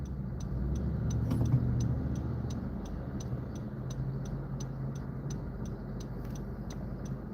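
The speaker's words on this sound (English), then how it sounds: "So much traffic right now," Steady road noise from inside a moving car in heavy traffic, a constant low rumble with a faint swell of a passing vehicle early on and a soft, regular ticking throughout.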